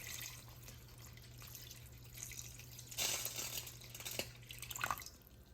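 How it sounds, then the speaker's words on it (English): Water trickles into a simmering pot of pozole stew, a soft steady pour with a few brighter splashes and drips near the end, quiet and close with no voices. "I'm just gonna add a touch of water"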